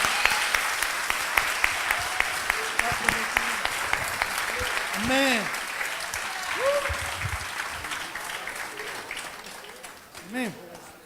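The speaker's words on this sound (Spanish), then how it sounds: "um aplauso ao Senhor." A church congregation at a ministry gathering in Rio de Janeiro breaks into sustained applause, with a preacher's voice and scattered calls rising over the clapping.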